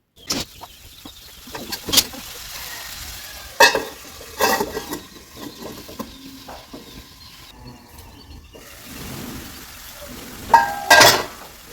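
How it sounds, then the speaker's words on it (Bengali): Dry spices stirred with a ladle in a pan, a few loud metallic scrapes and clanks spaced out over a quiet low sizzle, close and without talk. "সবগুলো মশলাকে একটা হাতা দিয়ে নেড়ে চেড়ে মিশিয়ে নেব"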